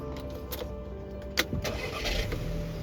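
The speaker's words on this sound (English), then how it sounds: "Let's start the engine." A Volkswagen Beetle engine cranks and catches, settling into a low idle; brief clicks and knocks come just before it turns over.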